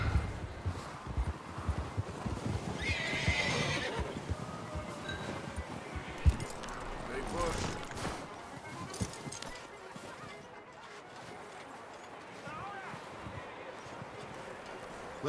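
Horse hooves clip-clop on the ground in Red Dead Redemption 2, steady and fairly close, mixed with a possible whinny and light clinking, while voices talk over parts of it.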